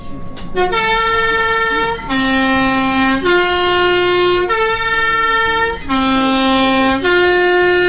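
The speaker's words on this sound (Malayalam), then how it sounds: "വളവെത്തുന്നതിന് മുൻപ് ഹോൺ മുഴക്കി" A loud bus horn blares before a bend on a winding road in Interlaken, Switzerland, in a series of long, musical multi-tone blasts, close by, with short gaps between each sustained note.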